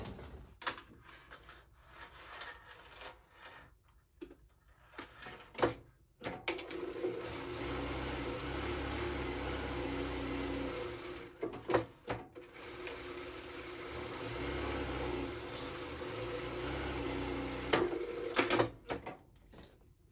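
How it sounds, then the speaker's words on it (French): The presser foot is changed by hand on an industrial sewing machine. Quiet close-up clicks, ratcheting metal turns and rubbing handling noises come in bursts with short pauses, and no one speaks. "je suis en train de changer mon pied de machine"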